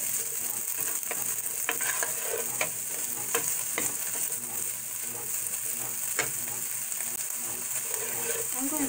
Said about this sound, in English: now I've got my ham. It's all heated up. You can kind of hear it sizzling.